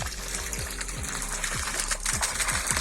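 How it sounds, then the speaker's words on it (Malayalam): A water tank at a Kerala home garden fills to the brim and overflows, with continuous close gushing and splashing and faint rhythmic pulses beneath. "വെള്ളം ഓഫായിക്കോ നിറഞ്ഞു പോവാണേ വെറുതെ വെള്ളം കളയല്ലേ"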